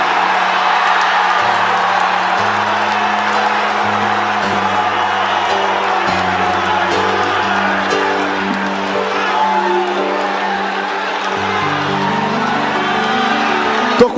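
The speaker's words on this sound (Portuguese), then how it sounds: "Quem acredita nisso, dê um grito de glória." A large church congregation shouts and cries out glory together during a Brazilian evangelical service, a loud, dense and sustained crowd roar over steady organ or keyboard music throughout.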